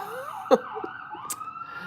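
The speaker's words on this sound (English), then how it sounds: "Sirens, yes, Katwi." A siren wails steadily in the distance, its rising and falling tone continuing throughout, with a short cough-like burst partway through.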